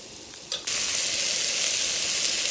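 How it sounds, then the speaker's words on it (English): Vegetables and veal sauteing in a pot, a brief quiet clink before a loud, steady hiss of sizzling surges up and holds, with no talk. "Our vegetables are sauteing"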